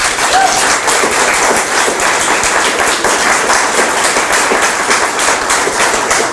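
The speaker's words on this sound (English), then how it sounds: "I'd like you to give them a round of applause." An audience applauds police officers patrolling United States cities, producing dense, loud, continuous clapping that holds steady for several seconds, with no talk over it.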